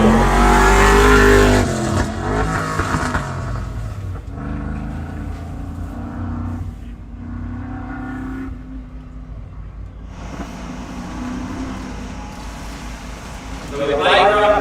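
Simon Baker's offroad race car runs the Waikerie Enduro section, its engine revving and roaring up front before fading into the distance beneath a commentator talking over it, then surging louder again at the close.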